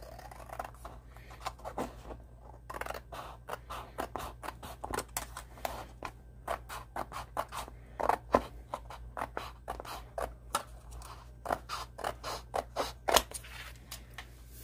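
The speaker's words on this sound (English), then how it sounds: "Probably easier for me to cut it this way so I know where the edge is." Scissors cut along the edge of a paper art journal page in a long run of quick, crisp snips, close and steady, with no speech.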